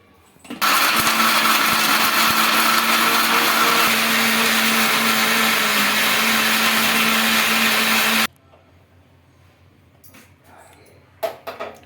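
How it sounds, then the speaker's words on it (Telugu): A mixer grinder runs at full speed grinding onion, tomato and dry coconut pieces into paste, a loud steady whirring drone for about eight seconds that cuts off abruptly, followed by quiet clinks and handling sounds. "ఎండు కొబ్బరి ముక్కలు అయితే వేసుకున్నాను చిన్నగా కట్ చేసి ఇప్పుడైతే పేస్ట్ అయితే పట్టేస్తున్నా"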